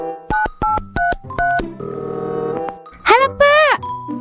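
Telephone ringing during a phone call in a comedy drama, short repeated electronic ring tones in a quick pulsed rhythm, followed by a brief warbling ringback sound, loud and close.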